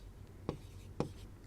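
Chemistry formulas being written on a board produce two quick, sharp tapping strokes about half a second apart, faint and close, with no talking.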